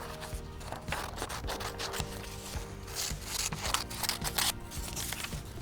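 Paper pages being cut out by hand for a homemade craft book, a continuous rasping, rubbing run of cutting strokes, close and moderately loud with no talking.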